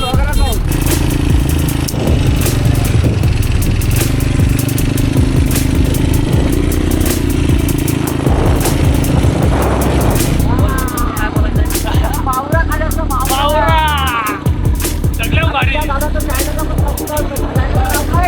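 A beach bike engine running on Kashid Beach, a loud, continuous motor drone close by with clattering and crowd babble around it, while people talk over the noise.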